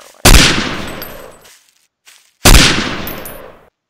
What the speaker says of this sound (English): I'll see if I can hit that, because this is actually a fairly accurate rifle